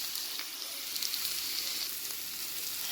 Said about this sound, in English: So sweat those onions down.